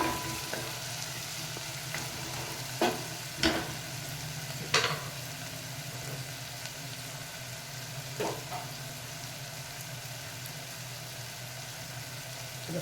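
Half-fried onion for tomato curry sizzles quietly and evenly in a pan, with a few soft stirring knocks and scrapes scattered through, close and without talk.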